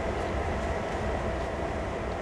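A train rumbles past in Train Sim World, a steady, dense rolling roar of wheels and wagons filling the whole stretch at close range with no talking.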